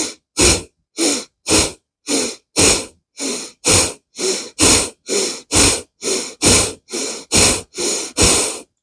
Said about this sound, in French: Et l'on va venir effectuer 10 respirations Bhastrika.